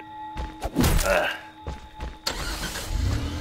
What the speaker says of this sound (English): someone started the car